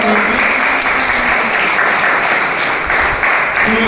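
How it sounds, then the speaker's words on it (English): A keynote audience gives a dense, steady round of applause, loud and close, with many hands clapping continuously throughout. "can you give another round of huge applause"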